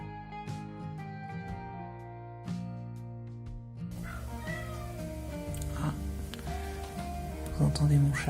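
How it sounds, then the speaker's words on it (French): A domestic cat meows several times indoors in short, insistent calls, close and clear, with other room sounds behind it. "Vous entendez mon chat."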